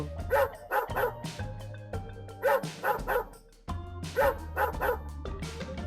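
Several dogs bark repeatedly in a village, loud and close, in bursts of yelps and bow-wows with brief whimpers, chasing off a fox.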